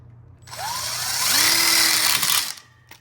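A power drill drives a screw into a connector plate on a welded split outdoor kitchen bar kit. Its motor whines up in pitch and holds for about two seconds, then cuts off.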